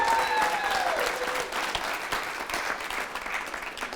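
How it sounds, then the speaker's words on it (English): A room of audience members applauds at an announcement event, a dense, sustained patter of hand claps that holds steady for several seconds with no talking. "Let's give them a huge round of applause."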